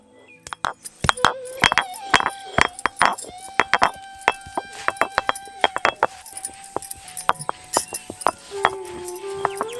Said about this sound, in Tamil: முக்குளியோட சேர்க்கறதுக்காக சுக்கை இப்ப இடிச்சு எடுத்துக்கலாம்